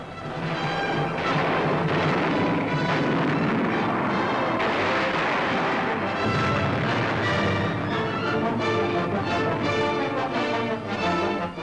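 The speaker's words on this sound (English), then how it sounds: "Blasting Nazi emplacements in the hills is typical of artillery action along the entire Italian front." Artillery fire pounding enemy emplacements in the hills along the Italian front in 1944, a loud, dense and continuous roar of blasts and rumble filling the whole stretch.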